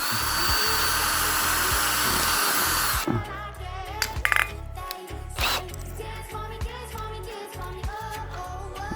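A power drill bores into an old plastic spray bottle, with a steady high whine at first, then stopping and starting in short whirring bursts with clicks and handling noise, close and without speech.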